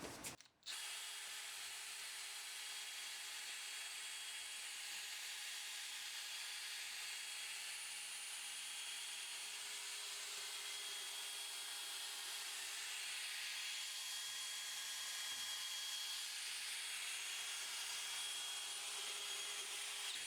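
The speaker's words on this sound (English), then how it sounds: "So I'm now sanding the headlight all over using the 800 grade." A power sander with an 800-grade disc whirs steadily at close range on a plastic headlight for the whole stretch, an even grinding hiss with little variation and no talking.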